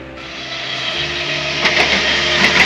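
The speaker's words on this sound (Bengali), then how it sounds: "বৃষ্টি স্নাত রেলগাড়ি বেরিয়ে গেল, তার আওয়াজ আস্তে আস্তে মিলিয়ে গেল।" A steady broadband rumble of a local train departing in the rain, with a hiss of rain over low mechanical drone that continues through the clip as the sound fades.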